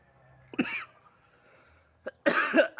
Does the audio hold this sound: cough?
yes